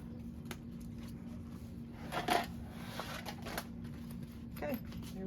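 Scissors trimming fabric on a bag's pocket panel and zipper overlay, several crisp snips and rustles at close range, with a brief louder cluster in the middle and a faint steady hum underneath.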